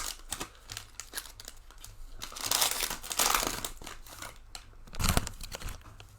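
Panini NFL trading card hobby packs being torn open by hand, with bursts of crinkling, tearing foil wrapper close by, swelling in two louder flurries and settling between them, no talking.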